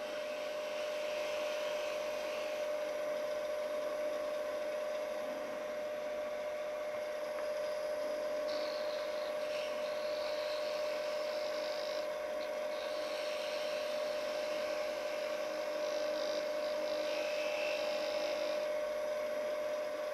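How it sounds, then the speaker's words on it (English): A wood lathe runs steadily while a tiny goblet is turned, giving a constant motor hum and whine with a light scraping of the tool against the wood. The sound stays even and close throughout. "I'll stop the lathe and wait until the lathe stops before I move the tool rest."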